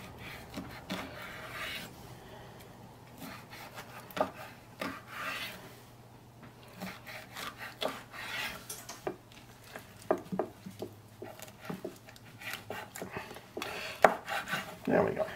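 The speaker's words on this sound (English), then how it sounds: "So what we are gonna do is cut it into strips." A knife cuts preserved lemon into strips on a board, giving soft irregular scraping and tapping strokes close by, with occasional sharper clicks and no clear talk.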